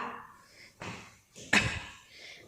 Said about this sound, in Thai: ปิดประตูค่ะ